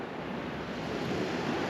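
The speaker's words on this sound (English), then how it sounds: "now the waves are a bit bigger" Atlantic Ocean surf washing onto a beach, a steady broadband hiss of breaking water with some wind, brief, continuous and fairly loud, no talk.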